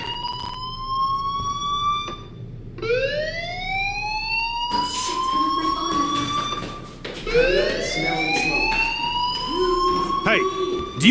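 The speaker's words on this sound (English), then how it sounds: "do you hear that fire alarm?" A fire alarm sounds in Life is Strange, a repeating rising electronic whoop that sweeps up again and again, loud and steady, with background noises underneath.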